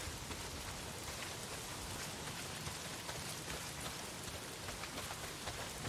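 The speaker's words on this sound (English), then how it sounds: "Well, not if it's pissing down rain." Heavy rain in the Days Gone video game pours down steadily, a dense unbroken hiss of drops striking surfaces, loud and constant with no voices.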